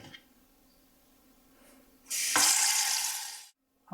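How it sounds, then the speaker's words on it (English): A kitchen tap runs cold water into a jug, first a quiet trickle, then a loud, bright hissing gush for over a second before it cuts off sharply, with no one talking. "you need to fill this jug up halfway with cold water"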